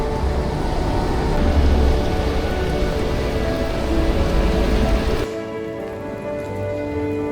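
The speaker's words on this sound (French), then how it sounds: "Grosse pluie pour le départ." Heavy rain drums steadily and loudly outdoors at night at the start of a hike, then drops abruptly to a softer, more distant patter; no voices.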